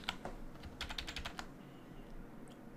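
Soft, close computer keyboard typing in a short run of rapid clicks, then a few isolated taps, over a constant low hiss with no speech.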